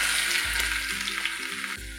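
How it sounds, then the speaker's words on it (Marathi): Mustard and cumin seeds sizzling in hot oil, a steady, close frying hiss with faint crackle throughout, no voices. "तर आता आपलं तेल चांगलं तापलेलं आहे. 1 TSP मोहरी, 1 TSP जिरं."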